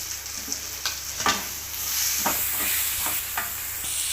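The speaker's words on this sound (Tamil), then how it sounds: "இப்போ தக்காளி போட்டுக்கலாம் தக்காளி போட்டு கொஞ்சம் வதங்கட்டும்" Tomatoes sautéing in a pan give a soft, even sizzle with a few scraping stirs, close and moderately loud, no one speaking.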